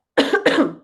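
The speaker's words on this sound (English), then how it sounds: "I'm sorry I'm coughing a bunch." A single short cough in two quick bursts from a person who is a little sick, close and clear against silence.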